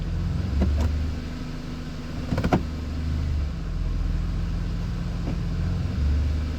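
A 2004 Mercedes C230 W203 with the 1.8 engine idles with a steady low drone, close up, broken by a few brief clicks and knocks partway through, with no one talking.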